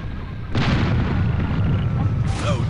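Cannons on an airship in the Air Buccaneers game firing cannonballs: a heavy boom bursts in and rumbles on, with a second blast near the end, over a steady low drone and faint background voices.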